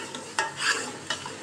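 Masala spice mix being stirred in a pan while cooking paya, giving two brief scraping bursts of utensil against pan over a soft background sizzle.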